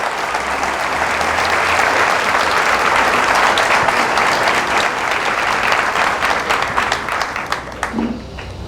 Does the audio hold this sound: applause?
yes